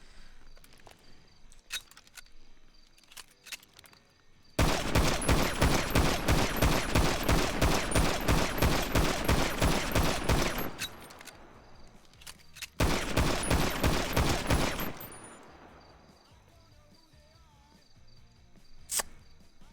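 Rapid automatic gunfire from a gun in an NDRP roleplay video game, two long sustained bursts of fast, evenly spaced shots, loud and close, separated by a short pause, with quieter movement sounds before and after.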